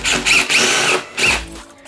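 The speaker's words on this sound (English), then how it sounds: "So drill the hole." A power drill bores a hole through plasterboard drywall for a wall anchor, loud whirring bursts in two pulses with a brief pause between, close up.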